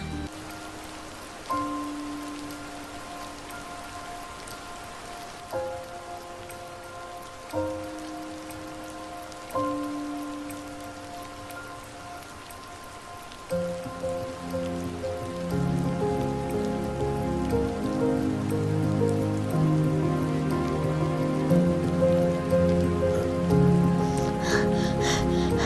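Rain patters steadily on surfaces, a soft continuous hiss underneath a prominent stepped melody of sustained musical tones that swells louder toward the end.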